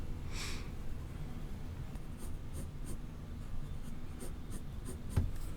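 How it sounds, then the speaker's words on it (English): A number 2 secretary pencil drawing on paper, with close, steady scratching and a run of short, distinct strokes, ending in a louder tap. "this is a number 2 secretary pencil"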